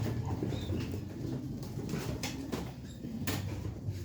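Low, throaty pigeon coos repeat close by, with a few sharp clicks and scrapes mixed in against a muffled background, while the birds are being vaccinated.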